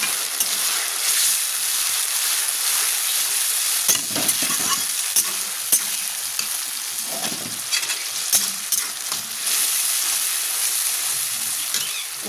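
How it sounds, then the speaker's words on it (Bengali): Tomatoes frying with browned onions in a pan, a continuous loud sizzle with repeated scraping stirs and spatula knocks throughout, no voices. "পেঁয়াজটা ভাজা হয়ে গেছে, দেখো খুব সুন্দর লালচে মতো হয়ে গেছে। এবার টমেটো দিয়ে দেব।"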